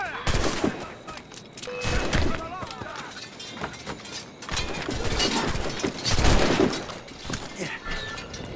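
Musket volley fire in the Assassin's Creed Rogue video game, with repeated crackling gunshot bursts and clatter through the clip, heard under shouted commands and game voices.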